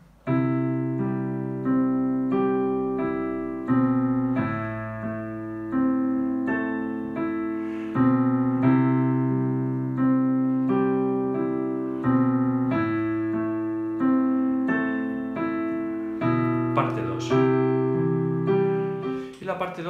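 Piano played slowly, one sustained note or chord after another, each decaying before the next, steady and close, no voices.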